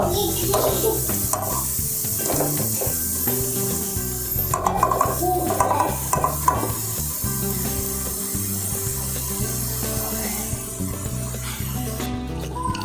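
A spoon scrapes and turns a beef and rice mixture in a pan, making steady rubbing and stirring sounds with a faint sizzle underneath, close and continuous.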